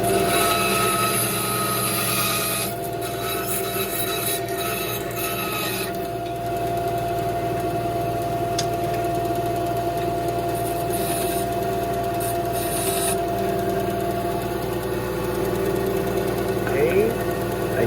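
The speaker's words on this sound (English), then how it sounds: "Just going to the bandsaw, make sure it's clean, safe debris." A bandsaw runs steadily in a workshop while fishing lures are being made, with a continuous whirring drone and rasping cut noise, and a voice speaks over it.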